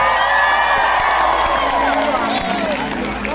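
An open-field concert crowd at Punggur, Central Lampung, claps and cheers for a show, a loud sustained roar of shouts and whoops with scattered clapping, continuous throughout and easing slightly near the end.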